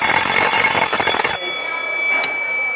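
A fire alarm bell from an FDAS panel rings loudly in a rapid, continuous clatter, then cuts off abruptly partway through, leaving a steady electronic tone and quiet room noise.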